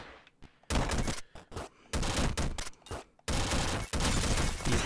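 Gun boots from the game Downwell fire in rapid bursts, separated by short gaps, each one loud and crackling like a fusillade.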